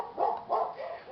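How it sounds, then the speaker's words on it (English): A dog barks a few times somewhere off to the side of a talking person, the muffled woofs coming in a loose rhythm of about three bursts, moderately loud but somewhat distant. "there's a dog barking over there"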